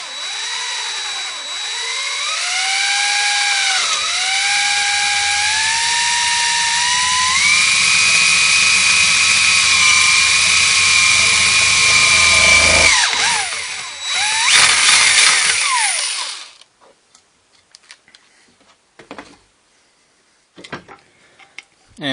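A power drill bores a hole in PVC for a compression nut on a homemade CO2 reactor for a planted aquarium, a loud close whine climbing in pitch for about thirteen seconds before winding down, followed by scattered small clicks and handling noises.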